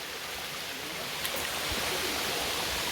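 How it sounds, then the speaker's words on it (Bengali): Muppochhora waterfall in Bilaichhari, Rangamati, running low on water and tumbling down in steps, heard as a steady, even rush of water with no voices. "ওপর থেকে ঝর্ণাটা স্টেপ বাই স্টেপ পানিগুলো নিচের দিকে পড়ছে"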